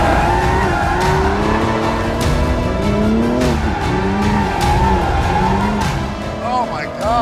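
A Ferrari supercar with its driver aids switched off skids and revs hard, its engine note rising and falling in loud sweeping pitches while tires squeal, close and continuous, with a voice briefly over it.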